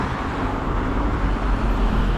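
Dense car traffic rumbles past on a road without a sidewalk in Port Louis, a continuous close roadway roar with no clear gaps and no voices.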